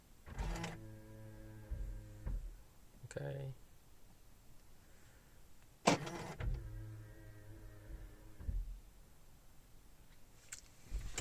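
A Volvo XC90 II D5 locks with a short mechanical whir as the side mirrors fold, followed by clicks and a second motor whir, close and moderately loud, with a brief spoken word near the start.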